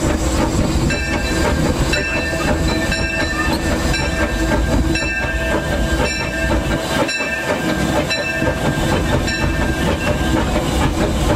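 Riding on the tender of the C.K. Holiday steam locomotive: loud continuous rolling rumble with rhythmic clickety-clack of wheels over rail joints, metallic ringing tones and hiss, close up, no talking.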